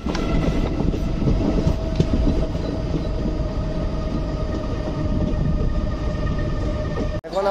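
The Kanchenjunga Express passenger train at Samsi Junction rumbles and clacks steadily from inside the carriage, loud and continuous, with a sudden brief thud near the end.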